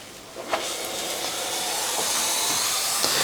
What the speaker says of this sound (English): wiping the steam arm and purging